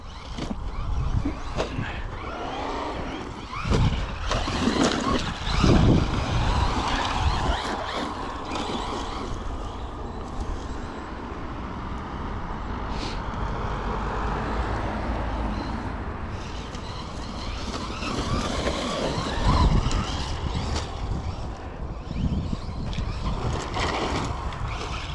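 A Traxxas Rustler 4x4 RC car with a brushless motor and a 15-tooth pinion, running at full throttle on grass with the motor heating up. Its whine rises and falls under gusty wind noise on the microphone.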